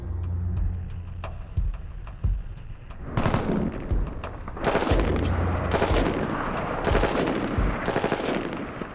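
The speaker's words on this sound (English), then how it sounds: "Can the M14 pass the helmet test in full automatic?" An M14 rifle fires in full automatic at an outdoor range. Several loud, sharp bursts of rapid shots ring out, with short gaps between them and a few isolated shots at the start.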